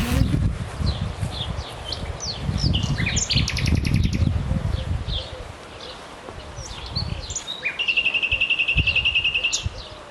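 Birds chirp and tweet in short repeated calls, with a brighter sustained trilling song toward the end, over rustling background noise.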